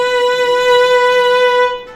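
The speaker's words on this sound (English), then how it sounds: "Slow and wide might sound something like this." Solo violin holding one bowed note with slow, wide vibrato, its pitch swaying gently and evenly, loud and close, fading out near the end with no voices.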